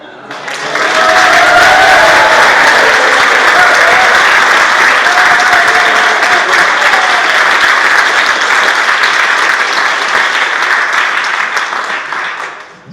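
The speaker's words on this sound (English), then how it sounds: "big round of applause for Pat" An audience gives Pat a big round of applause at the close of an event, dense sustained clapping that swells quickly, holds steady for about ten seconds and tapers at the end, with faint voices mixed in.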